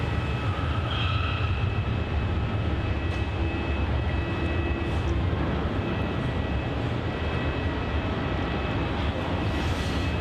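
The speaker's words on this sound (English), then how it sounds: "That was Jetstar flight 900 heading off to Busselton, the A320-200." A Jetstar Airbus A320-200 takes off from Melbourne Airport, its engines a dense, continuous rumble with a faint high whine layered on top, steady for the whole stretch with no talk.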